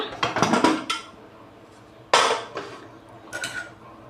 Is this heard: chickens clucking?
no